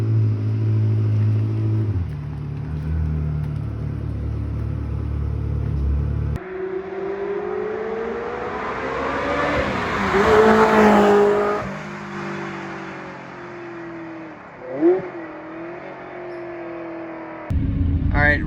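Race cars accelerate and roar along a track on race day, a steady engine drone swelling into a loud close pass around the middle, then fading with a brief burst of revving before it ends; no speech.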